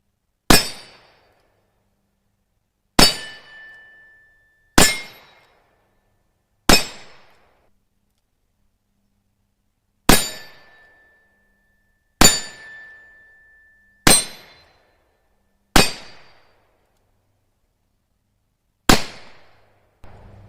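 A World War II Smith & Wesson 5-inch .38 Special revolver firing at steel targets: nine loud, crisp shots spaced a second or two apart, several followed by a ringing clang from the steel, with silence between.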